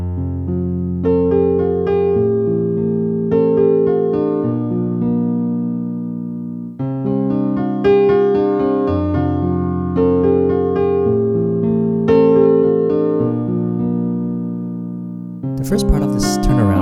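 Piano plays a 1980s-style turnaround passage of sustained chords and arpeggiated notes in clear phrases, ringing loudly and alone, ending with a brief noisy shuffle.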